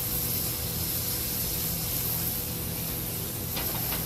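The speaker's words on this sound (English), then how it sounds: "We're going to add a little fresh oil" Fresh oil hissing steadily in a hot steak pan while searing steak, a continuous close, broad sizzle with no talk.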